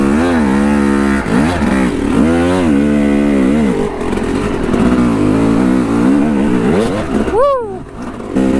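Dirt bike engine revving loudly and continuously on a rocky trail at a riding park, pitch rising and falling with throttle blips and climbing sharply near the end, with faint voices underneath.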